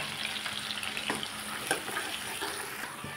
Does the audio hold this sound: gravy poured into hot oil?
yes